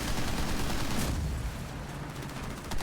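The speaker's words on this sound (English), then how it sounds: "so all they're left with is their minigun" Vehicle-mounted minigun in Halo Wars 2 firing a dense, rapid rattling burst, loud and continuous for about a second before thinning into softer background battle noise, with no talking.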